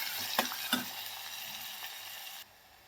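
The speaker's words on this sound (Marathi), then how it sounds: "कांदा टोमॅटो आपला भाजलेला आहे बघा" Onion and tomato fry in a pan, a steady broadband sizzle with a couple of sharp stirring clinks near the start, dropping abruptly quieter toward the end.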